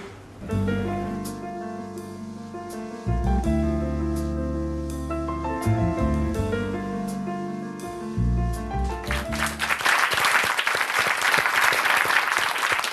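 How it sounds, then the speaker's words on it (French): Sustained musical chords ring out for several seconds before a loud burst of audience applause takes over near the end, dense and close, continuing to the finish. "Applaudissements pour ces messieurs"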